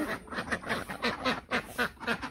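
Village ducks standing near a house quack in a quick steady series of about a dozen nasal calls, close and fairly loud, with no talking.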